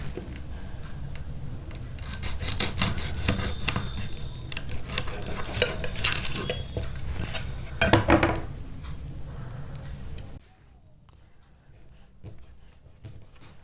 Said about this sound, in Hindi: देखिए सारे पनीर के पीसेस को हमने काट लिया है